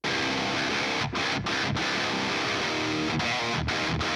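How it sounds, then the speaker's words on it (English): Heavily overdriven metal guitar through a Maxon OD808 overdrive pedal, chugging dense palm-muted riffs, with brief stops between phrases, loud and up close. "So this is how the Maxon OD808 sounds on its own."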